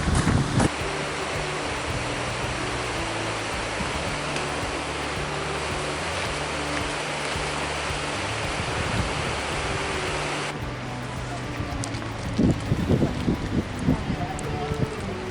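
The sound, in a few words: strong wind near Byron Glacier, Alaska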